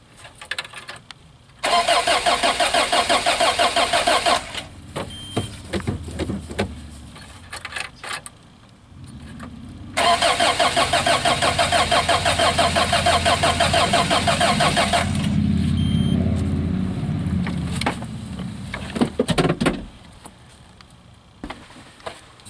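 A 1986 Toyota van engine with starting issues cranks twice in long bursts, close and loud, the second run catching briefly into a rough idle and revving before fading, with clanks and shuffling between attempts.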